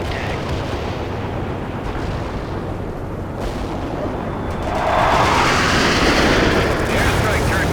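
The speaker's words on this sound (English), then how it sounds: "Cluster bomb hit for full effect." A cluster bomb airstrike in the video game World in Conflict, a dense wall of rumbling blasts that swells louder partway through, with battle noise and game voices underneath.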